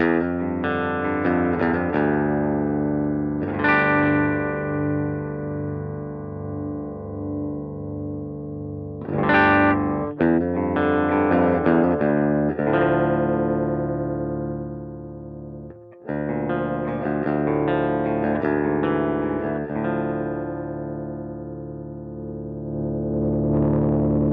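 Clean electric guitar chords and single notes ring out through a Fender amp emulation on a Strymon Iridium, all controls at noon, strummed phrases with sustained, slightly chorused tone and brief pauses between.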